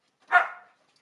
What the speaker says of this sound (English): He barked at me.